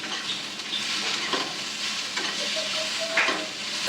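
Tomatoes, cashews and green chillies sautéing in butter in a pan for dum aloo, a steady close sizzle and hiss with light scraping stir strokes running throughout, no voices.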